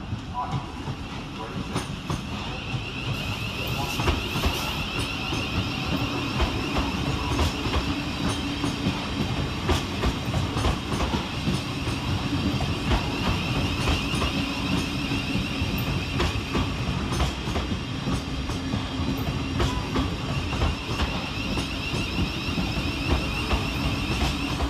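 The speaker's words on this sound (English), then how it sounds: "As 375 310 arrives to terminate in the background" A Class 375 electric multiple unit arrives at Strood railway station, a steady rumbling train roar with wheel clatter and rail noise filling the whole stretch, moderately close with no talk over it.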